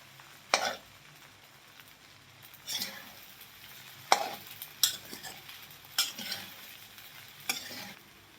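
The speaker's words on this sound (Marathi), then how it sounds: "गॅस मोठा करून एकसारखी खिचडी आपल्याला हलवत राहायचंय" Sabudana khichdi stirred in a pan over a high flame: a spoon scrapes and tosses the sago in repeated separate strokes, each a short burst of sizzle over a quiet, steady background, with no talking.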